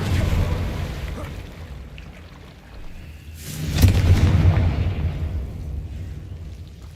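A Confringo fire spell blasts in Hogwarts Legacy, a single deep boom bursting out midway over a low rumbling game background, then slowly fading.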